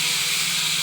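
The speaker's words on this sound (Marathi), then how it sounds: "तर आता मी ह्याच्यामध्ये छोले टाकते." Chickpeas (chole) tipped into a hot pan give a steady, loud sizzling hiss that runs unbroken through the whole short moment, with no voices.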